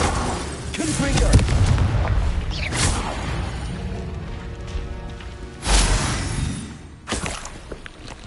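Confringo, an explosive spell cast in Hogwarts Legacy on PS5: loud booms and whooshing blasts go off one after another amid busy combat noise, with two strong explosions near the end and voices heard at times.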